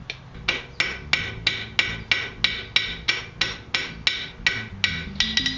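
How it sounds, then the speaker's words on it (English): A blacksmith strikes a flatter hammer on hot steel while finishing the tines of a forged fork, giving a steady, even series of ringing blows about three per second, close and clear with no talk. "I'm using a flatter hammer now."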